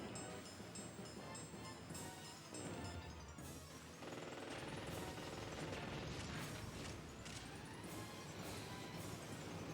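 Cannon fire in the aerial combat video game Skygunner, dense with repeated booming and crashing blasts layered over busy game music and effects, loud and continuous throughout.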